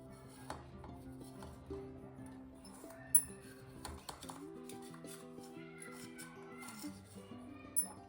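A knife runs around the rim of a chocolate Oreo cake baked without oven or eggs, loosening it from its pan with soft scraping and a few sharp metallic clinks, close and quiet, no talking.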